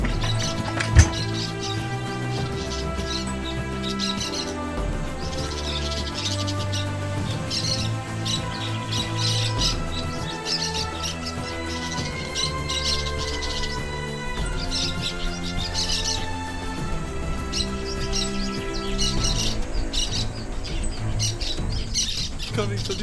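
A bird calls with squawks and chirps indoors, set against a continuous bed of loud music, with a sharp knock or crash early on.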